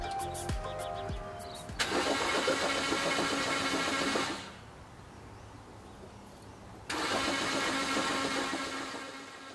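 A BMW with a smoking engine, dosed with Lucas upper cylinder lubricant, cranks with a whirring starter and fires into a rough idle, cuts off, then restarts and runs steadily, close and alone.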